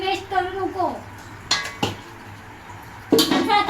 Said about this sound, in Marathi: आता मी घासते भांडी.